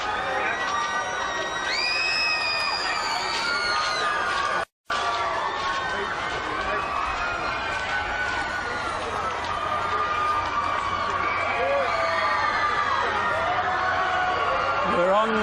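Michael Jackson's fans outside the courthouse swell into loud cheering and excited screams as he walks out waving, a dense, building crowd roar with high shrieks, broken by a brief silent cut.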